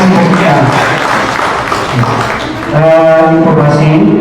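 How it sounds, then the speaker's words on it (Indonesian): Audience applause for a guest speaker at an Indonesian public talk event: a steady wash of clapping from a crowd fills the room, with a voice starting to speak near the end. "Sekali lagi tepuk tangan untuk narasumber kita."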